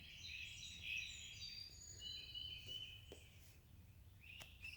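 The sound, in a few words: birds singing outdoors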